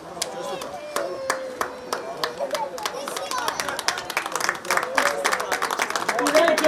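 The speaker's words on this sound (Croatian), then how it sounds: "I veliki aplauz za pobjednike." Crowd clapping at the Zagreb hippodrome for the winning racehorse, its owner and jockey at a prize ceremony. Individual claps begin sparse and distinct, then thicken into steadier applause, with a faint voice and tonal background underneath.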